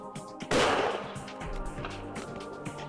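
A single loud rifle shot rings out outdoors during a grizzly bear hunt, a sharp close crack followed by a rolling echo that fades over the next few seconds.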